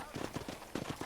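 Hooves clop on ground by a horse corral in a video game, quick, uneven footfalls at moderate distance, faint overall, with a voice talking over them.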